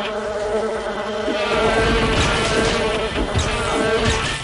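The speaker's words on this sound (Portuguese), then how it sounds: "é um mosquito" A mosquito in a video game gives a loud, continuous whining buzz that wavers in pitch and stays close throughout, with no one talking over it.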